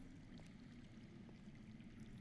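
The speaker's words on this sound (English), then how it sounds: "I hear water. From underground." Steady low rushing and trickling of underground flowing water in a cave setting from Telltale's Game of Thrones, a continuous faint wash with no voices.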